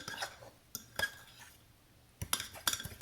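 A spoon clinks and scrapes against a mug while stirring mug cake batter, several sharp ringing taps in irregular bursts, close and fairly quiet.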